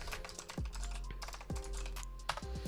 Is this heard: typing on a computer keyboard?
yes